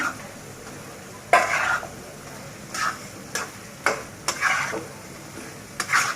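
Cow tripe bhuna cooks in a pan as potatoes go in, with a few distinct spoon scrapes and clatters spaced over a low, steady sizzle and no voices.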